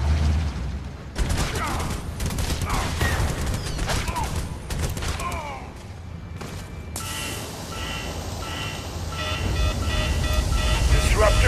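Rapid bursts of machine gun fire and clattering combat effects in the mobile strategy game C&C Rivals, dense and loud, overlapping with other battle noise and a steady mechanical drone toward the end.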